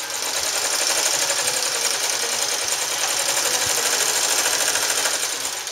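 A Sewmor sewing machine runs fast through eight folded layers of shirting fabric, a continuous close rapid mechanical chatter at an even pace throughout, with no voices.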